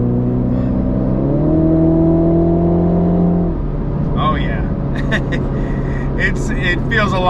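A Mini Cooper fitted with a cheap aftermarket performance exhaust revs up into a loud, sustained drone that drops away midway, leaving steady engine rumble under scattered clicks and knocks.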